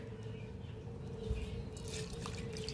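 Water draining and trickling from soaked rice and lentils being readied for dosa batter, a soft continuous liquid pour with faint drips, steady and fairly quiet throughout.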